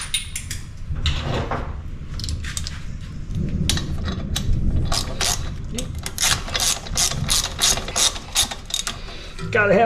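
Ratchet clicking in quick bursts while snugging hex bolts on a Front Runner roof rack install in a garage, close and crisp, with rhythmic pawl clatter and brief pauses between strokes.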